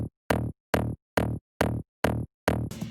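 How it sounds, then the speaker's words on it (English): A bright, distorted Melbourne bounce top bass from Nexus with the low end cut and sidechain pumping, heard as six short stabs in a tight, even rhythm before a noisy tail. "the top bass is also from Nexus, just a Melbourne bounce bass"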